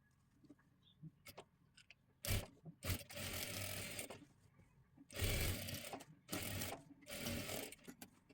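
Sewing machine running bursts of stitching to put a double seam along the side of a princess-cut blouse, several short and longer close runs separated by quiet pauses.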